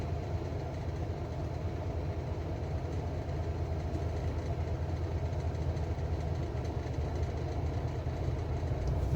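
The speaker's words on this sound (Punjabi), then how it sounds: "ਆ ਲਾਂਗੀ ਟ੍ਰੇਨ" A train passes a level crossing in a German village, a steady low rumble and rolling hum sustained throughout with no breaks, moderately loud and without voices.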